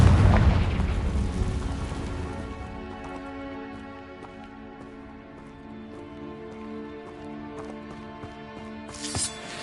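A heavy booming Confringo spell explosion in Hogwarts Legacy, loud at the start and trailing off into a long ringing, fading rumble, with a small crackling burst near the end.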